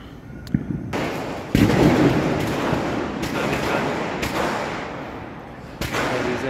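Diwali firecrackers burst repeatedly around a residential complex, with loud sharp cracks and sustained crackling booms layered over a dense, continuous roar of distant fireworks.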